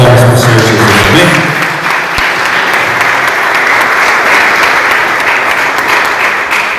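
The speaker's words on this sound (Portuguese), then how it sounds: "Vamos receber o servo do Senhor com as palmas do Senhor Jesus, amém?" A church congregation standing to welcome the preacher breaks into loud, dense applause that holds steady throughout, with voices and a brief tone audible early beneath the clapping.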